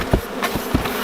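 Honey bees buzz while a colony of about 40,000 is moved into a new hive, a close, dense droning hum with a few soft knocks over a brief moment.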